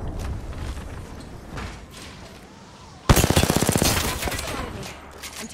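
Rapid automatic gunfire bursts out loudly in Apex Legends, a dense rattling volley after a quieter stretch of game ambience, with a few scattered shots continuing near the end.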